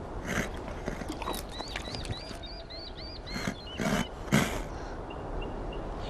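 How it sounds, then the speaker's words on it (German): A horse being walked in the video game Beyond: Two Souls clops with scattered hoof knocks of uneven rhythm, some louder than others, over an outdoor ambience with chirping birds. "Sehr cool, dass man so mit dem Pferd hier spazieren gehen kann."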